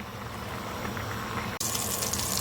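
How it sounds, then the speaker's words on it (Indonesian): Water is drained from a pot of boiled spaghetti into a sink, with a steady hiss that becomes a sudden, brighter gush partway through, heard alone. "Oke, kalau gitu langsung kita tiriskan ya."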